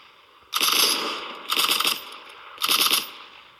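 Three short bursts of rapid gunfire in the video game Cyber Hunter, each about half a second long and separated by brief pauses, loud and close with no speech over them.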